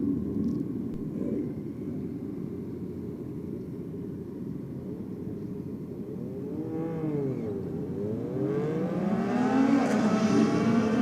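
Motorcycles roaring off the line on a drag strip at a Sydney bike night, engine noise sweeping up and down in pitch as bikes pass, with a sustained loud rumble building toward the end.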